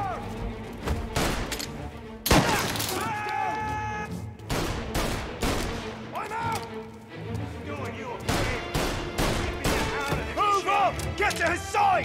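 Gunfire in Mafia Definitive Edition: bursts of pistol and rifle shots crack in rapid volleys, some close and loud, some echoing, with shouting voices mixed in between the shots.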